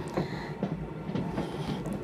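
A moving passenger train rumbles steadily close by, with a low rolling drone and faint rhythmic wheel clatter, heard from near the carriage door.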